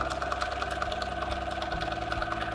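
A sewing machine runs steadily while quilting a ribbon candy motif with crossing lines of stitching, a continuous close mechanical whir with a fine rapid needle pulse and no voices.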